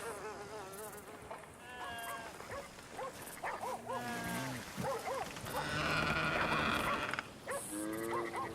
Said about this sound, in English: That's a dog in there.